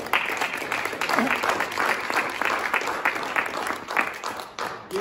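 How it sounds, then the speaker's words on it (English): Applause from the audience at an opioid symposium in Cameron, honoring the evening's presenters: a steady, dense clapping of many hands that holds for several seconds, close and moderately loud. "please help me give a round of applause to our presenters tonight"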